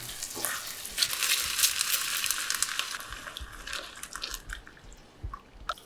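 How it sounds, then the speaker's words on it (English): Cream poured into a hot, syrupy brandy reduction in a pan for steak au poivre sets off a steady, broad sizzle, with light stirring and bubbling throughout and no talking. "Then we just add the cream."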